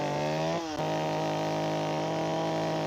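A chainsaw carves wood while making a fan cut, its engine droning steadily with a loud buzzing tone, dipping briefly under load before settling back to a constant high idle.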